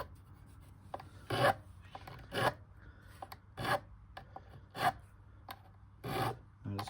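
A small triangular file rasps across a guitar fret in short, separate strokes, about six close, dry scrapes spaced roughly a second apart and heard alone against quiet background.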